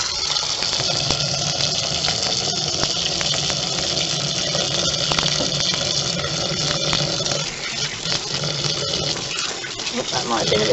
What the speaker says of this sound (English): let's get this water running